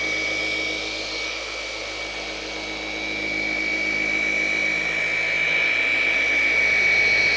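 A machine polisher works compound into car paint with a steady, close whirring drone that swells slightly in loudness as pressure shifts.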